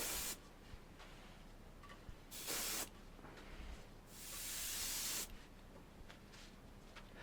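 Wood stain sprayed from a can onto a stencil for a crackle glaze finish, several hissing bursts of varying length, the longest over a second, separated by quieter gaps, close by with no talking.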